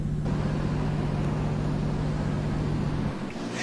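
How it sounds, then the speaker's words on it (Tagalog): A Filipino jeepney idles with a steady, loud low rumble and exhaust drone, close by, before it cuts off near the end. "Sa garalgal pa lang ng makina at boga ng tambutso, makikilala na agad ang tunog ng nag-iisang hari ng kalsadang Pinoy."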